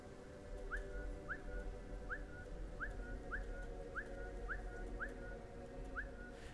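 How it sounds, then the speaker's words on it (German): A character whistles in the stealth game Velvet Assassin, a series of short rising whistle calls repeated about ten times in a steady rhythm over a low ambient hum, with no talking. "wie oft muss ich noch pfeifen?"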